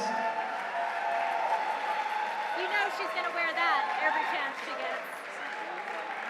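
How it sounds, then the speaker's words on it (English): Crowd at a national climbing competition applauds and cheers for the women climbers, a moderate wash of clapping in a large hall while someone talks over it. "One more round of applause for the ladies."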